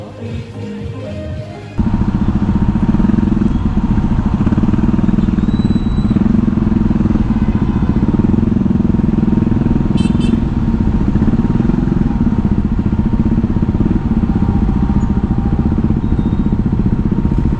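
Several motorcycles idle together on a track day, a steady loud low rumble that holds evenly throughout after a brief quieter start, with occasional faint clatter and no talk.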